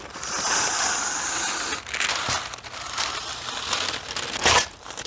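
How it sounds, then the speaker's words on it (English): Brown paper being crinkled, handled and taped over a homemade whiteboard, a steady papery rustle with louder crackling bursts near the middle and end, close up with no talking. "we're gonna then tape over it with this brown paper"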